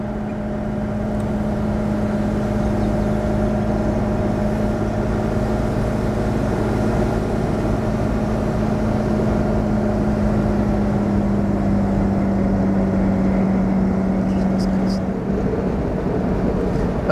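A 1953 Mercedes 220 Cabriolet B on the move, a steady engine drone with road and wind noise inside the car at constant speed, no clear gear changes.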